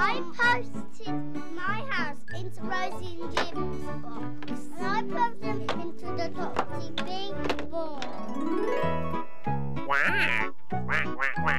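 A toy-like duck quacks in a cheerful children's television scene set in Stratford-upon-Avon, its nasal honks mixed with a voice and chiming music throughout, busy and close.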